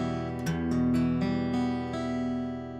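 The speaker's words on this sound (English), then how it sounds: "and here's the minor one, sad." Acoustic guitar minor chord strummed once and left ringing, with a few lighter restrikes, played alone, clear and close with sustained tones fading slowly.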